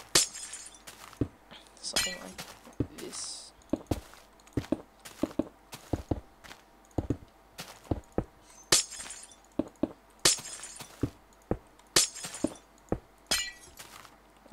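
Glass blocks are placed one after another in a block-building game, making sharp clinking, glassy clicks in an irregular rapid series, with someone speaking briefly over them.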